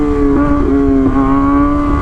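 A Gixxer motorcycle engine holds a loud, steady note close by, with brief dips where the tone steps as it shifts up through the gears.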